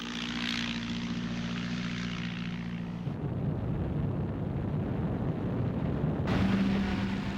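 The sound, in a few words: Gladiator fighter biplane aircraft engines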